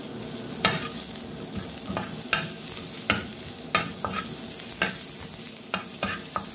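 Leftover rice stir-fried with onion in a pan, a steady sizzle broken by sharp repeated clacks and scrapes of a spatula stirring, close and without talk.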